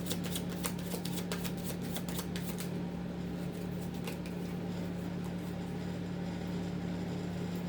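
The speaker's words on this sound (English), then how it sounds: "We'll pull some cards on that." Tarot cards are shuffled briskly in rapid riffling bursts, loudest at the start and then softer and intermittent over a steady low electrical hum, with no talking.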